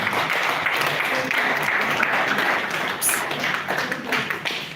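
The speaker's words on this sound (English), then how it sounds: "Please can you give him another round of applause?" An audience at a live event gives a round of applause, dense continuous clapping that stays loud throughout and tapers slightly toward the end.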